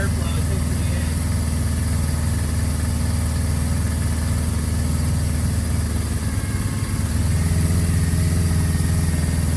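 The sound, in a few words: motorcycle engine idling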